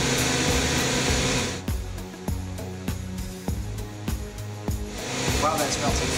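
A jewelry melting machine heats and runs, giving a steady mechanical hum with a rising whine, interrupted by sharp clicks and knocks; someone talks over it.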